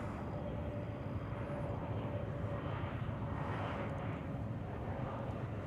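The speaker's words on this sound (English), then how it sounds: "We have Frontier Flight 950 about ready to touch down." A Frontier airliner coming in to land at DFW Airport, heard as a faint, steady, distant engine rumble and broad roar with no break.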